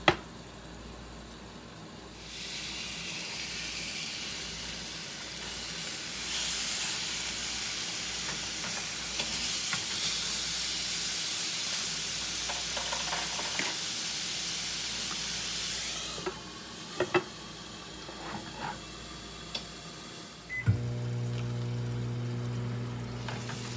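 Food fries covered in a pan at medium heat, a long continuous sizzle and hiss with occasional clicks and bumps toward the end, close and steady, no talk.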